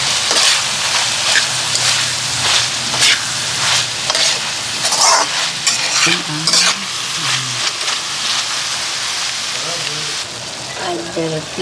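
Eggplant and minced pork stir-fry in a hot pan for a talong roll dish. A loud, continuous sizzle runs throughout, broken by scraping stirring strokes, with a faint voice in the background.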